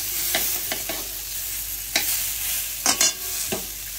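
Hot oil sizzling loudly in a pan with salt, turmeric and chilli before fish go in for a no-onion, no-garlic fish dish. A steady crackling hiss with sharper spits and pops scattered throughout, close and with no talking.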